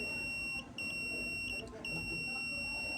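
A multimeter's continuity buzzer sounds while a microwave magnetron is tested, a steady high electronic tone that briefly cuts out a few times with faint background noise beneath.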